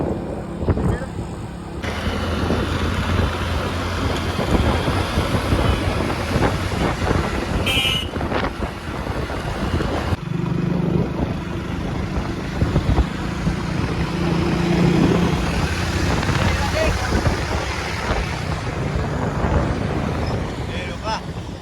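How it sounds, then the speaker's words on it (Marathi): Car driven on an outing toward Malanggad, a steady low engine and road rumble with wind buffeting running throughout, voices talking over it. "आणि मी गाडी चालवते."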